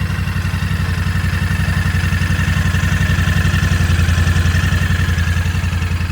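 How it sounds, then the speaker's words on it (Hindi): A 2025 Royal Enfield Bear 650 motorcycle idles through its 2-in-1 exhaust, a steady, even low thumping pulse with a faint mechanical clatter on top, loud and close, with no voices. "तो ये मोटरसाइकिल का आइडल साउंड है।"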